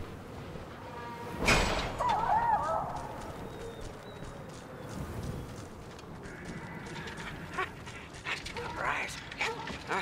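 A dog in the Mad Max video game gives a sharp bark near the start, then a brief whimper, with some hoof-like clopping and game ambience continuing underneath.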